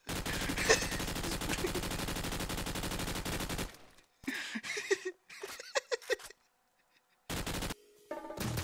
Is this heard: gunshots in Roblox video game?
yes